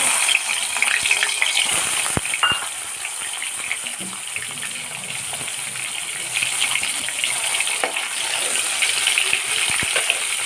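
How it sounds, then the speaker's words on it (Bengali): Two hilsa fish heads fry in hot oil with a loud, dense, continuous hiss and crackle, close up. A few brief knocks sound beneath it, and no one speaks. "তো তেলটা আমার গরম হয়ে গেছে এই যে দুটো ইলিশ মাছের মাথা রেখেছিলাম এবার আমি এটাকে কড়া করে ভেজে নেব"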